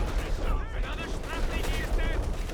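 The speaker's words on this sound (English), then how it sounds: "Here comes the assault artillery." Assault artillery fire in Company of Heroes 2: dense, rumbling barrages of shelling and gunfire with a commentator talking over the battle.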